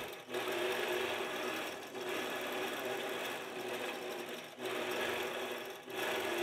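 A sewing machine quilting a maple leaf log cabin quilt runs in steady, close stitching bursts, with brief pauses between runs and no talk.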